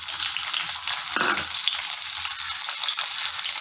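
Small onions, about ten or twelve, sizzle steadily in hot oil in a kadai, a continuous close, bright frying hiss with a brief louder burst as they are stirred.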